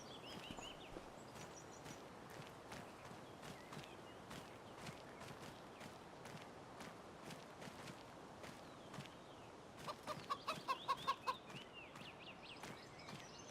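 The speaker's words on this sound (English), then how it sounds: "We have our chicken coop for a total of 70 chickens." Chickens cluck and mutter in the Farming Simulator 25 video game over a steady low background, with soft footstep-like thuds throughout and a brief run of louder clucks near the end.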